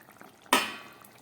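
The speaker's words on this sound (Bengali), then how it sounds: "চলুন ঢাকাটা খুলে দেখি মাছের ঝোলটা কতটা হয়েছে" A lid comes off a pot of simmering Bata fish curry with potatoes, making one sharp metallic clank that rings and fades into a faint bubbling simmer.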